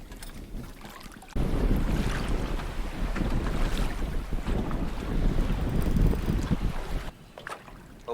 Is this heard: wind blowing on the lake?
yes